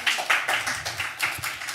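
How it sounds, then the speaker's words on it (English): Scattered clapping from a small audience at a poetry night, irregular individual claps close by, brief and fading. "Let's give Mary another round of applause, everybody."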